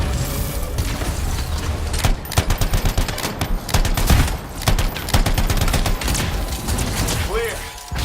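Soldiers firing guns in the video game Anthem, loud rapid bursts of machine-gun fire and single shots crowding together with booms, close and dense, while voices talk in the middle of it.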